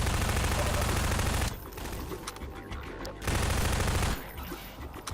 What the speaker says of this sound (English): you have to dodge Combine bullet fire as well, shooting through the grates up above you